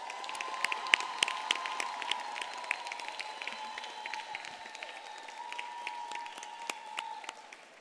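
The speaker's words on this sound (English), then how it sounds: "let's give a massive round of applause" Sustained applause from a large audience, steady dense clapping with a faint held tone underneath, continuing for several seconds.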